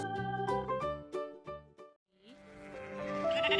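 Several short, nasal sheep bleats in a row, then a brief pause followed by a longer, brighter bleating sound, close and fairly loud.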